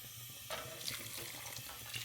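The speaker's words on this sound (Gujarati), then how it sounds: "અને આમાં પાણી નાખી દઈએ આપણે." Hot water poured into a pot of rice mixed with spiced vegetables for vegetable biryani, a steady rushing splash that begins sharply and continues close by without any talking.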